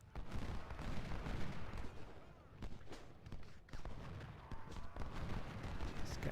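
Booming artillery and gunfire from a Civil War battle in the video game Ultimate General: Civil War, a dense run of overlapping low thuds and blasts that rumbles continuously at fairly close range without a clear break.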